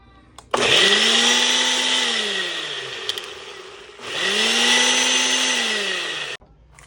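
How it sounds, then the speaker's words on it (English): A blender blending a steak marinade whirs loudly in two long bursts, each starting with a sharp motor surge and settling into a steady high-pitched grinding whine, separated by a brief pause. "Then put it in your blender of choice."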